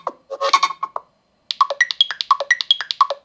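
Melodic electronic ringtone from a Nothing Phone 3 smartphone: a short burst of bright tones, a brief pause, then a quick repeating pattern of clear chiming notes, close and moderately loud with no talk.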